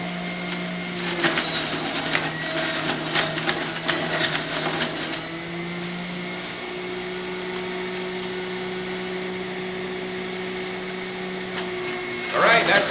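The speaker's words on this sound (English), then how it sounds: "pushing down the carrots into the machine at a nice and slow rate to maximize our yield" An Omega juicer slowly pressing carrots as they are pushed into the feed chute, giving a steady mechanical whirring hum with intermittent crunching and grinding, fairly close; no speech is heard.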